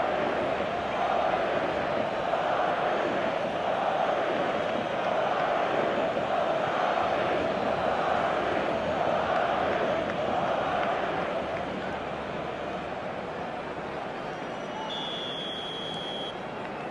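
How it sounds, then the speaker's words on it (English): Crowd noise in the eFootball Mobile 2025 football video game after a goal, a loud sustained roar that swells early and eases slightly toward the end, with a brief electronic tone near the close. "the crowd level has gone up a notch or 10"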